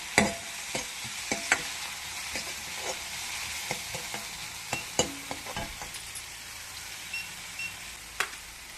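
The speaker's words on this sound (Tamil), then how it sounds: "தக்காளி சேர்த்துக்கோங்க. நல்லா வதக்குங்க." Tomatoes sautéing in a pan with onion paste for a South Indian pumpkin sambar, a soft frying hiss broken by scattered clinks and scrapes of a stirring utensil, fairly quiet and close, no voices.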